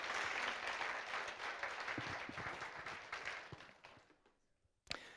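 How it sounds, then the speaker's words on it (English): Conference audience at a NetSuite Day 2022 event applauds its speakers, a faint sustained round of clapping that gradually fades away, ending with one sharp louder sound. "So let's give everybody another big applause."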